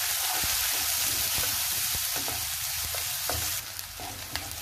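Steady, dense sizzling of onion and garlic frying in hot oil, with occasional stirring scrapes in the pan, no voices.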